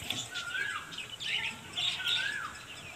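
Old pigeons calling in a loft, a few short squawky chirps and rising-falling calls close by against faint background noise.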